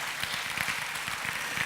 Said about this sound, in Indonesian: Tepuk tangannya yang meriah saudara.